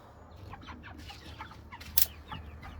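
Meat chickens in a coop give soft, scattered clucks over a low steady hum, with one brief sharper squawk near the end.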